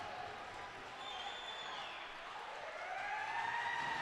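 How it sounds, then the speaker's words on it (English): A home crowd at a high school hockey game roars steadily after a shorthanded goal. The broad sustained cheer swells toward the end, with whistles and horn-like tones rising through it. "You hear the home crowd coming alive"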